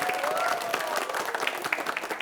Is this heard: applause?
yes